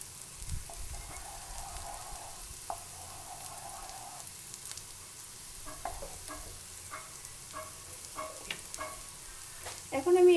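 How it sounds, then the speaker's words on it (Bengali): Mustard oil heats and sizzles softly in a pan as it is stirred, with a faint steady frying hiss and sparse scraping clicks that grow louder at the end. "তারপর মাঝে একটু নাড়িয়ে নেব যাতে তেলটা গরম হয়ে যায়"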